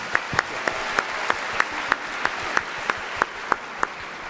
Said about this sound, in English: Another round of applause for our OCs. Give it up for them.